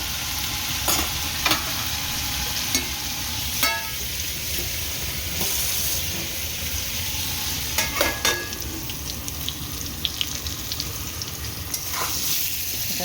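Bitter gourd and potato fry in a pan in a constant crackling sizzle, with scattered knocks and scrapes of a spatula stirring the pieces, heard up close.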